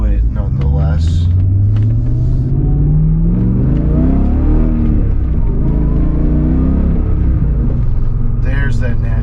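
A BMW with a naturally aspirated engine, freshly restored suspension and engine, accelerates on its first drive, a loud close rumble with rising engine tones sweeping up through the gears, with a voice talking over it.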